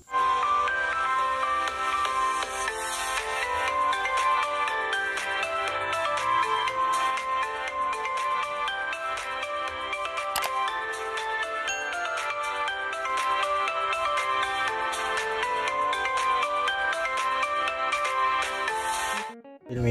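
A ringtone melody plays through the loudspeaker of a Realme C2 phone, steady and continuous for about twenty seconds with dense bright tones, then cuts off abruptly at the end.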